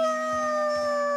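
A character in the video game The Last of Us Part II imitates a wolf howl with his voice, a sustained, steady, loud tone lasting about a second over continuous game ambience.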